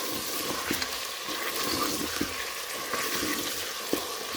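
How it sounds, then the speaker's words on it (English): Water is poured into a cooking pot of onions for a homemade pilau, making a steady, fairly faint rushing and sizzling hiss with a few soft clinks. "Let's add in some water so that our onion"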